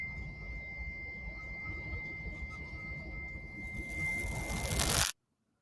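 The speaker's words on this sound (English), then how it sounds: "They're getting the ringing in the ears." A steady, piercing high-pitched ringing tone holds throughout over rumbling noise, while a hiss swells louder near the end before everything cuts off abruptly.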